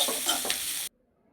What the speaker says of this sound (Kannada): ಅವನ್ನೆಲ್ಲ ಫ್ರೈ ಮಾಡೋಣ.